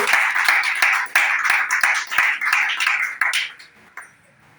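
A church congregation claps together in a fast, regular rhythm, loud and close, with a bright ringing tone over the claps that tapers off toward the end.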